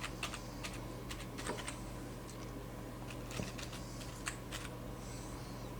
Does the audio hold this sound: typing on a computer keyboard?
yes